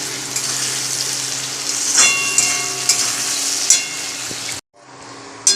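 Food sizzles steadily in a hot pan for a curry dish, a dense continuous frying hiss with occasional stirring scrapes, close and loud, briefly cutting out near the end before resuming.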